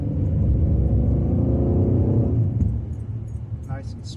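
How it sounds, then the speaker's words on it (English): A project car speeds up on a closed course, its loud engine rumble swelling and steady before easing off, then lighter rattles and clicks follow near the end. "I'm going to go ahead and give it a little bit more of acceleration."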